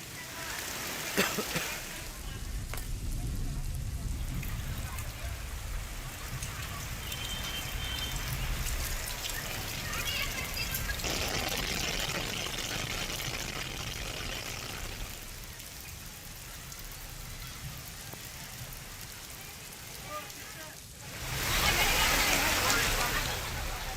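Heavy monsoon rain falls in Kalyan Dombivli, a steady hiss of rain and running water throughout, with a louder splashing surge near the end.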